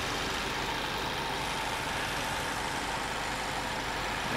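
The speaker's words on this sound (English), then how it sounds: "And that's a four-cylinder engine." A 2010 Chevrolet Malibu LS four-cylinder engine idles steadily under the open hood, a low, even rumble that holds constant throughout with no voices.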